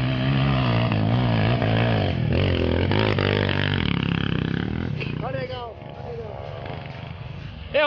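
A motorcycle engine revving hard on a dirt trail ride, a loud sustained roar near the listener with shifting pitch, dropping away toward the end while voices shout.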